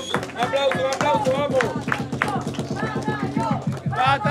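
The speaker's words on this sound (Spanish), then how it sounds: "¡Aplauso, aplauso," Crowd at a hip hop freestyle battle quarterfinal clapping in a steady rhythmic beat, loud and close, with a voice shouting over the claps.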